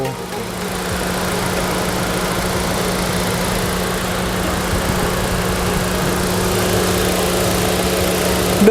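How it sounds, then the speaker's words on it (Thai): A 2019 Suzuki Swift 1.2 GL engine idles steadily with a constant low hum and faint whine, running unbroken and close by with no voices. "เสียงเครื่องก็ดี"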